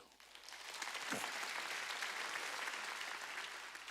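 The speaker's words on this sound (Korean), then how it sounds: "박수 좀 쳐줘요." Congregational clapping in a church during a Wednesday worship service, rising quickly and holding as a soft, sustained wash of applause from a gathered crowd.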